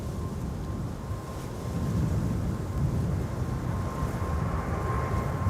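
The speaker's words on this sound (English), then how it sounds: "And a Dreamliner here" A Boeing 787 Dreamliner airliner lands at Schiphol on runway 06 Kaagbaan, heard as a heavy, low, continuous engine roar that swells slightly and holds steady at a distance.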